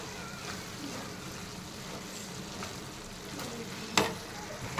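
Spiced dried prawn curry is stirred in a pan, making a low continuous sizzle with faint scraping throughout and one brief sharper clink near the end.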